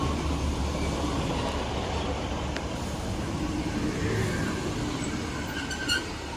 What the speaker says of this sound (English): Arriving now is the 12:20 Northern service from Blackburn to Rochdale.